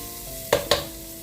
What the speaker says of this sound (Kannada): ಇದಕ್ಕೆ ಈಗ ರೈಸನ್ನು ಹಾಕುವ.